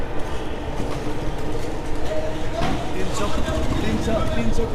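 A metro train rumbles steadily nearby in Dhaka with a rhythmic clatter and mechanical hum, while someone talks over the noise.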